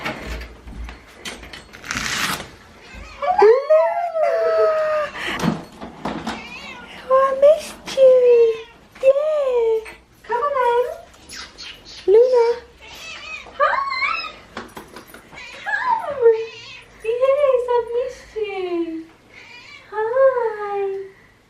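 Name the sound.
cat meowing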